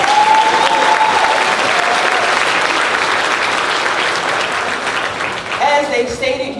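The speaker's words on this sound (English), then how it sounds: "Let's give our union leadership another round of applause." Loud, dense applause fills a large school district convocation hall, a steady wash of many hands that slowly eases off while a voice briefly talks over the crowd near the end.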